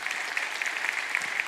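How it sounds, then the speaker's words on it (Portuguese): Church congregation clapping in praise during a sermon, a brief burst of steady, fairly close applause with no speech. "vamos aplaudir ao Senhor."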